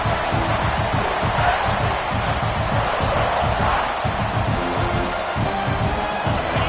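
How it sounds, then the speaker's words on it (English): Stadium crowd noise from the Madden football video game on PS5, a steady dense roar with rising swells, loud and continuous throughout under low rumbling game audio. "this crowd coming to life here trying to help the defense get a stop"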